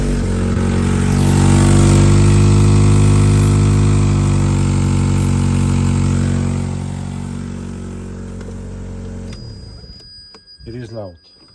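A Vauxhall Opel Zafira engine idles loudly with a leaking exhaust, blowing at a flex joint seal and weld, giving a steady close rumble that fades out near the end, followed by brief clatter.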